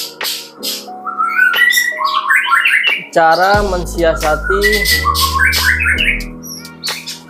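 Loud, close white-rumped shama (murai batu) singing varied whistles, rapid chirps and trills, with a low hum briefly underneath and a few spoken words.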